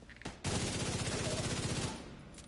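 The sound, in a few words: assault rifle firing in The Division 2 video game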